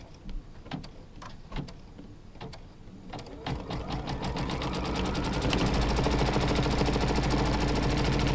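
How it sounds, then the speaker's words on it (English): A sewing machine stitches a seam on a quilt block, starting with a few isolated clicks and short bursts, then running steadily and loudly in a fast continuous rattle for the final few seconds. "and then stitch that seam."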